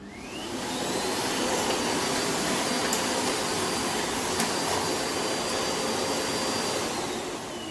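Miele Blizzard CX-1 Excellence vacuum cleaner running, a loud steady whooshing motor roar that ramps up at the start and holds constant throughout, with a faint high whine, no talking.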